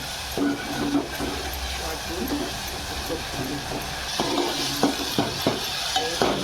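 Ingredients for Maharashtrian dahi kadhi stirred and frying in hot oil: a steady sizzle with repeated scraping strokes of a spoon in the pan, close and fairly loud, with no talking.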